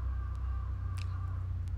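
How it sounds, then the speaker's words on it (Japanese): A crow caws outdoors, a short harsh call or two fairly distant over a constant low hum and hiss, with no talking. "カラスが鳴いてる。"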